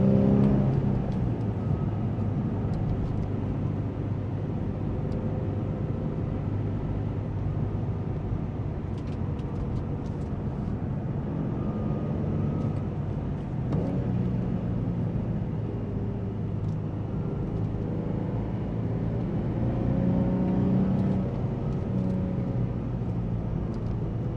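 A 2003 Nissan 350Z Track Edition pulls hard through the gears from inside the cabin, its engine note rising and dropping with each shift in a sustained, droning run, with no talking.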